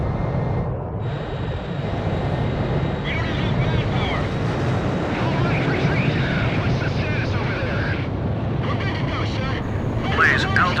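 In the Ace Combat 5 video game, a jet fighter roars down the runway on takeoff, a loud sustained broadband engine rush with airy wind-like hiss layered over it.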